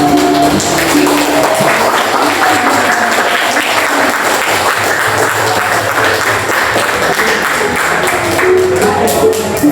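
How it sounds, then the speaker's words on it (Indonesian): A school class gives sustained applause for a presenting group, a loud, dense, continuous clapping that holds evenly for nearly ten seconds with little talk. "Kita beri tepuk tangan kelompok 1"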